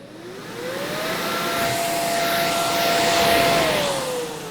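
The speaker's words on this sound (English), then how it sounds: "We're gonna turn on the bounce house blower and see if this one can handle it." A bounce house blower powered from a Midnite Solar Little Rosie inverter spins up into a loud, steady whirring drone with a rising motor whine, holding near and constant before easing off at the end.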